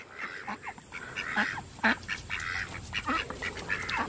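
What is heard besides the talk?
ducks quacking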